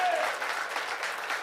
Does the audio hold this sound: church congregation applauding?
yes